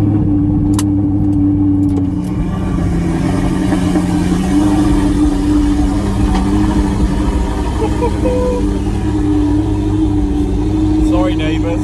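An Audi R8 fitted with a new exhaust, valves held open, idles loudly after a cold start, a deep continuous burble with slight rises in revs, and voices talk over it.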